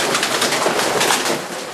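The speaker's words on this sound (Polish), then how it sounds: "Bardzo fajne gołębie." Racing pigeons in a Polish loft in Myszków in December give a steady wash of overlapping cooing and bird calls, moderately loud, with no talk over them.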